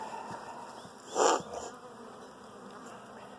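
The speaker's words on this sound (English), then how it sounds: "there's a buttload of bees on it" Faint, steady honey bee buzzing hums in the background from a hive frame, with one brief louder swell as a bee passes close by.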